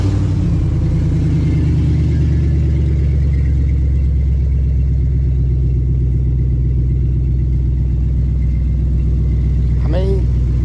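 A 5.3 junkyard V8 idles in a budget-built truck, a loud steady low rumble with a regular throbbing beat, close by, with a short whine-like sweep near the end and someone talking over it.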